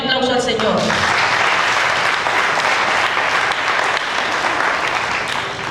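A church congregation bursts into loud, sustained applause close by, a dense wash of clapping that fills the space after a short voice at the start.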